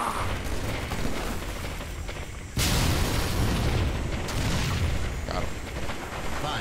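A sudden loud boom from a plasma grenade explosion in Halo MCC breaks through steady game noise, followed by a second burst a couple of seconds later, with voices nearby.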